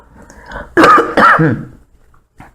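Two harsh coughs in close succession, near and loud, followed by a faint short sound after a pause.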